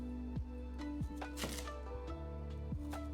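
A knife cutting sweet potato on a board, a few sparse chops spaced about a second apart, set against steady background music and a low hum, with no talking.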